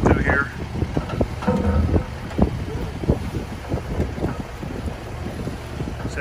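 Strong wind, around 18 mph, gusts over rough water at a dock beside a barge being repaired, with steady wind noise on the microphone, choppy water and irregular knocks. A voice may be present in the background.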